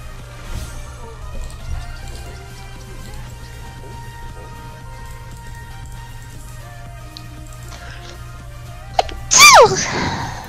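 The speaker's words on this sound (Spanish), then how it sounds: "Parecía un estornudo de Lulu." A single sharp sneeze bursts out near the end over quiet background music during a League of Legends gameplay session, loud and close after a long stretch of soft sound.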